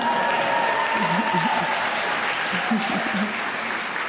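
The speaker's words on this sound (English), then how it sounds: "I thought you would clap for yourselves." Graduates applaud at a university graduation ceremony in a large hall, a steady distant wash of clapping running throughout while a voice speaks over it.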